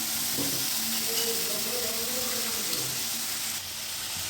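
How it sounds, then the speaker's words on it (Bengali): Hot oil in a kadai hissing steadily as spices go in, a soft continuous sizzle with faint clinks, no voices. "তেলটা গরম হয়ে মশলাটা দিয়ে দিচ্ছি।"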